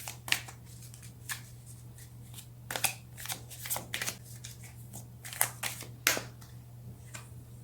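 Tarot cards are riffled and shuffled by hand in a quiet room, with irregular bursts of crisp snapping flutters and soft slides, close and moderately loud over a steady low hum.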